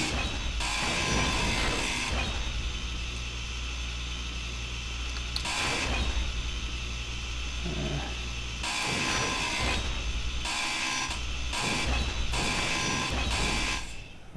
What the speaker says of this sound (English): So I'm trying to grind this down and let gravity help me for as much as it can.